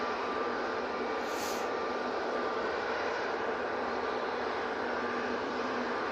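British Airways jet airliner spooling up its engines at Manchester Airport, heard from a distance as a broad, steady roar with a faint whine, constant in level throughout.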